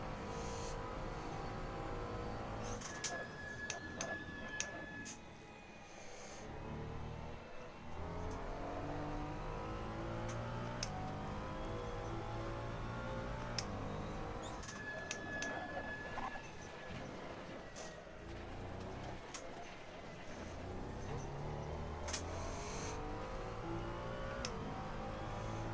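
A race car engine in Assetto Corsa revs and shifts through its gears with a steady, droning tone that rises and falls, running continuously and fairly faint.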